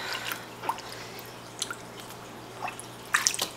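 A big skein of yarn is pushed down into soaking water, giving faint, sparse drips and soft squishes against a quiet background.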